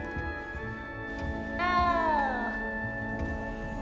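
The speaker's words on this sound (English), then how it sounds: "You don't need to be frightened, little cat." A small cat in the video game Hogwarts Legacy lets out a single drawn-out meow that bends downward in pitch, close and clear over a low ambient game background.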